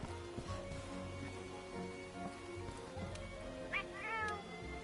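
The housekeeper kitty in Monster Hunter World Iceborne gives a couple of short meows over a steady bed of game music and ambience, fairly quiet and mixed into the background.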